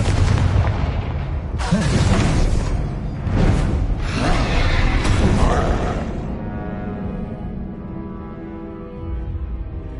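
Spell blasts from the Confringo curse in Hogwarts Legacy, several loud booming explosions with whooshing bursts in the first six seconds, fading into a quieter rumbling tail.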